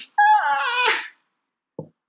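A woman imitates a labor scream, giving one long, loud, strained harmonic wail that rises and breaks before trailing off, followed after a pause by a short, low vocal grunt.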